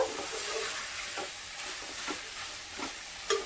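Brinjal curry is stirred in a frying pan, giving a continuous close sizzle with a few soft spoon scrapes and taps at irregular intervals.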